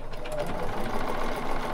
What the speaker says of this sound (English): okay, I need you to sew backwards.